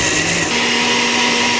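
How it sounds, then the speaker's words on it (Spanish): Countertop blender running steadily on garlic, tomato, pepper and peanuts, a loud continuous whirring grind heard close up for under two seconds with no talk. "Llevamos a licuadora juntamente con el maní, que es más o menos una buena cucharada colmada, para que quede bien delicioso."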